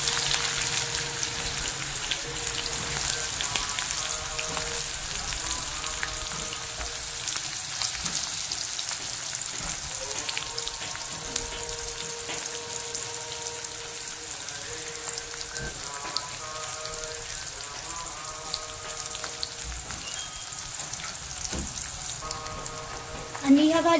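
Onion frying in hot oil with golden-browned garlic and curry leaves for a moong dal vegetable dish, a steady crackling sizzle that continues throughout, with faint talking under it.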